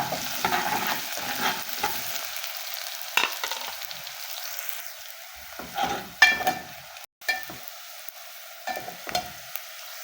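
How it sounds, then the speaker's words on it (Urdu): Garlic and ginger fry with onions in hot oil, giving a continuous close sizzle marked by repeated scraping stirs and a few clinks of the utensil against the pan, with no voices. "پیاز گولڈن ہو جائے تو اس میں لہسن ادرک ڈال دیں۔"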